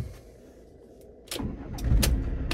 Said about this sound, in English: It starts straight away, no issues at all.